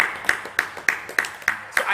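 A church congregation claps for Jesus Christ in a steady, evenly spaced rhythm of sharp hand claps, about one clap every third of a second, fairly close and prominent.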